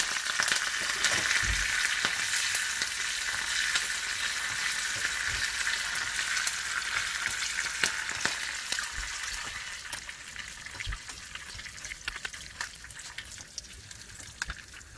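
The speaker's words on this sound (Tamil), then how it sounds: "நான் கடுகு சேர்த்துக்கிறேன். இது ஒரு டீஸ்பூன் அளவு கடுகு" Mustard seeds, urad dal and curry leaves fry in hot oil, making a continuous close sizzle with scattered crackles and pops that slowly quiets over the stretch.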